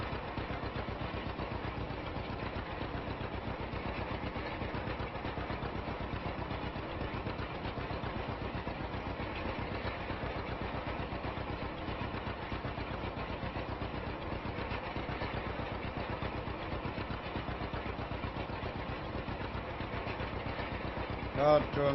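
A John Deere A tractor engine from 1949 runs in Farming Simulator 25, making a steady, continuous chugging drone at an even level for the whole stretch.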